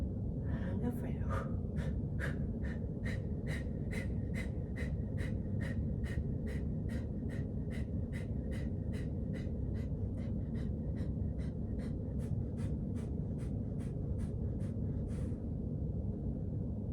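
Forceful yoga breathing, pumping the belly, produces a steady series of about twenty-five sharp, rhythmic nasal exhalations, evenly spaced and close, beginning with a deep inhale and stopping abruptly near the end.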